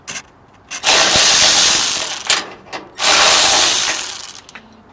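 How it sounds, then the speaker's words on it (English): A ratchet loosens 13 mm radiator support bracket bolts on a 1983 Chevy C10 pickup, with two long, loud, close bursts of fast clicking separated by a short pause and a few trailing clicks. "we're gonna get these radiator support brackets out of here on both sides, 13 millimeters."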